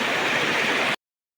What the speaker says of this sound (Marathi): किती मोठं पाणी आलं आमच्या नदीला